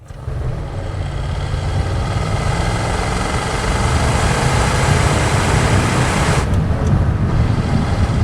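A 1987 Ford F150 regular cab short bed 4x4 pickup with a 5-liter V8 and 4-speed manual runs steadily and loudly throughout, its low engine drone mixed with heavy wind noise, with no voices.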